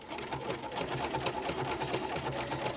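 A sewing machine stitches steadily along a gentle curve, its close, continuous motor whir and rapid needle chatter running evenly with no talking.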